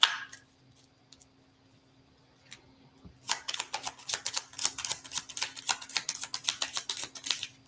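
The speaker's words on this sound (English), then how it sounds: "let me just shuffle real quick." Tarot cards are shuffled for a reading, heard as a quick run of crisp, rapid papery riffles and taps close up after a short quiet pause, with no voice over them.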